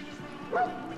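A single short bark or yip from a dog in the video game Far Cry New Dawn, quick and fairly close, over a faint game background.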